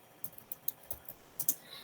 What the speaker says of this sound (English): I'm just typing as marketing management